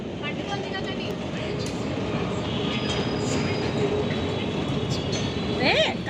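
A metro train runs with a steady, loud rolling rumble throughout, building slightly toward the end, where a brief high wheel squeal rises above the noise.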